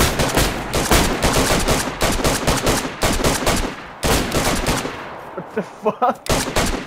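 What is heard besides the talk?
gunfire shooting zombies in the video game DayZ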